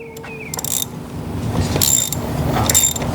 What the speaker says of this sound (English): And now we're gonna take off the throttle body.